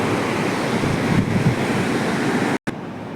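A mountain river that once flooded, flowing down from the Badrinath side, rushes in a steady, broad, close roar with some wind buffeting and a brief dropout near the end.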